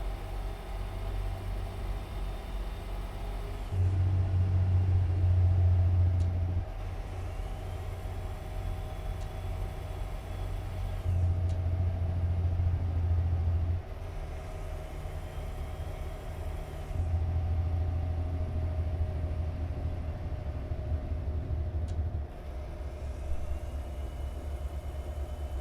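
Steady truck engine drone heard from inside the cab in American Truck Simulator, a low idling rumble whose deeper heavy-engine tone swells in several long pulses, continuous and fairly subdued with no talking.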